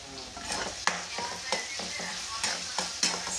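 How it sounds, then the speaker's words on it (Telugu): Food frying and being stirred in a pan after salt is added, with a steady sizzle broken by repeated sharp scrapes and clinks of the spoon against the pan. "దోరగా ఫ్రై చేయించుకుంటే చాలు ఫ్రెండ్స్, టేస్ట్ బాగా వస్తుంది."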